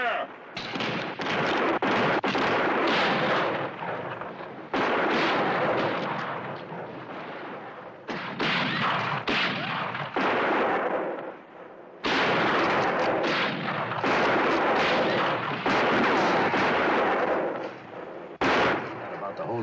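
Gunfire in a Western TV shootout, dense bursts of shots and loud cracks packed together in long stretches with brief pauses, close and intense, with occasional voices mixed in.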